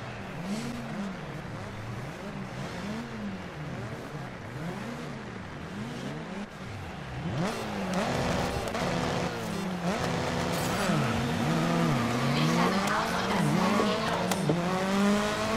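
Race cars rev and accelerate at the start of a race in Japan in the racing game GRID, their engines rising and falling in repeated sweeps, then a denser pack of engines with tire squeal; a voice talks faintly.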